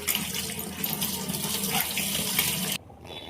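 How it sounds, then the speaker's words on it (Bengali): Dal pours into water in a pressure cooker, a continuous close splashing and rushing of water for under three seconds before it stops abruptly. "এবার ডালটা দিয়ে দেবো।"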